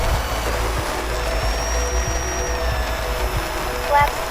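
FMS Pilatus PC-21 RC model plane taking off, a steady electric motor whine with a rising high tone drifting across a constant rumbling background, slightly louder near the end.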